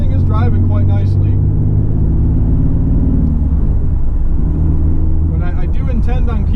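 A V6 Pontiac Firebird track car with a T5 manual gearbox drives along, its engine a steady low rumbling drone from inside the cabin, with someone talking over it at the start and end.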